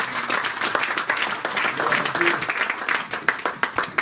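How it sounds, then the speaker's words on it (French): A church congregation at a French-language sermon breaks into applause, many hands clapping in a lively, slightly uneven rhythm with voices rising among them. "Donnons quand même une acclamation."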